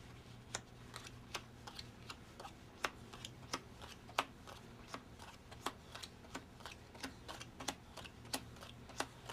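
Playing cards dealt one by one onto a table during a 21 card trick, a steady series of soft, crisp flicks and taps at a quick, even rhythm, close and quiet.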